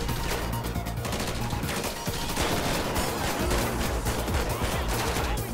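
Sustained video-game gunfire from GTA 5 with the LSPDFR police mod during a military and SWAT patrol, dense overlapping rifle and handgun shots rattling continuously at close range.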